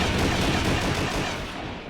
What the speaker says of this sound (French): Des coups de feu?